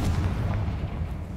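Confringo fire spell explosion in the video game Hogwarts Legacy, a deep rumbling boom that rolls on steadily for a second and a half, loud and close, with no voices over it.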